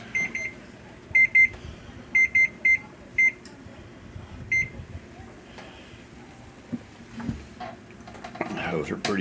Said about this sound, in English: Let me get my timer off here.